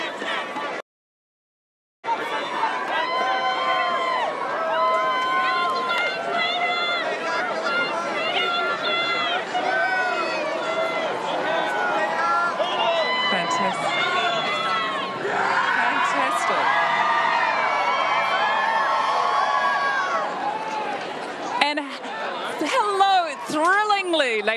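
Dense crowd of fans at The Hobbit: An Unexpected Journey world premiere shouting, screaming and cheering continuously as director Peter Jackson arrives, high excited voices whooping throughout, loud and sustained after a brief dropout near the start.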